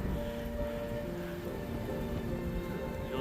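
Steady rain falling on the Appalachian Trail in Shenandoah National Park on a cold, cloudy day, a dense even hiss of drops on nearby surfaces with no voices.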